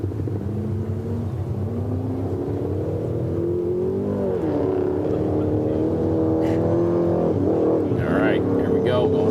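A Class 1 off-road race truck, number 290, launches off the start line at a Baja 500 qualifier, its engine revving and rising in a loud, sustained roar under gusty wind.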